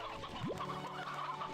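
Video game chickens clucking, a few quick soft clucks and a rising squawk, faint and close, with no talking.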